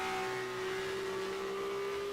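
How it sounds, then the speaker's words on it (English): A steady, loud engine drone with a rising tonal whine from an open-wheel racing car at Zandvoort holding high revs throughout after a downshift. "You can hear the revs of the engine"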